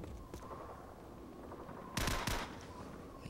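Gunfire in Call of Duty Modern Warfare during a Team Deathmatch, a few sharp bursts of rapid shots, one short crack early then a louder cluster near the two-second mark, fairly faint over a quiet background hum.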